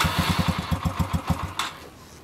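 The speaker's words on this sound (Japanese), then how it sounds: "こちらからエンジン音聞かせてもらえますか" A stock motorcycle engine idles close by with a steady, even putt-putt pulse, then the beat fades out near the end.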